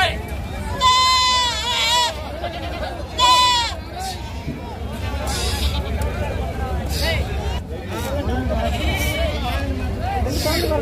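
Goats bleat at a Friday goat and sheep market in Gudur: two loud, close wavering cries early on, then fainter bleats amid a crowd's hubbub and someone talking nearby.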